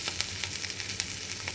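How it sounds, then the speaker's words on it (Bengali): Fish roe mixed with potato and Malabar spinach leaves fries in a pan, giving a steady, close crackling sizzle with small pops scattered across the short stretch. "এই দেখো বন্ধুরা, কত সুন্দর করে মাছের ডিম ভেজে নিলাম"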